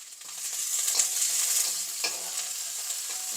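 Sliced onion and curry leaves sautéing in hot oil, a loud, continuous close-up sizzle with light stirring scrapes, no voices.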